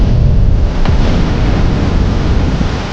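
Storm winds roar and floodwater rages in an apocalyptic flood that has reached the tenth floor, a loud, unbroken wash of rushing noise with no speech.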